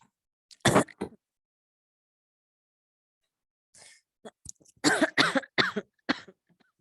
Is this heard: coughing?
yes